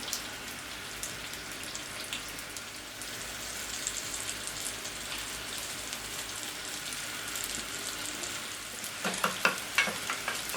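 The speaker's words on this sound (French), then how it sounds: "avec le beurre qui me restait des pommes de terre, je vais faire suer mes échalotes" Shallots sweat in leftover potato butter in a pan for a sage jus, giving a steady, soft sizzle throughout with a few brighter crackles and stirring clicks near the end.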